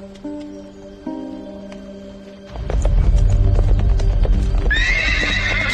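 A lame horse's hooves clip-clop on a path, starting with a few sharp knocks over a quiet tone, then a loud burst of trotting hooves followed by a high whinny near the end.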